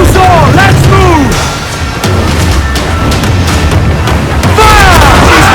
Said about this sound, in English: Look! Mortars, Captain! Incoming fire!